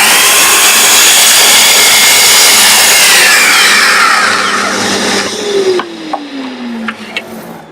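A loud power saw whines through timber set in a dovetail jig, a continuous roaring cut that winds down as the motor spins to a stop, followed by a few light knocks.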